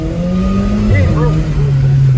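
A Mercedes G55 AMG engine revving on a city drive, a loud steady engine drone rising and falling in pitch as it is revved, with people talking over it.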